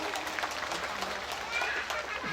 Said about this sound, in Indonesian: Saya minta semua tepuk tangan dulu untuk keluarga besar TSM Muara Jaya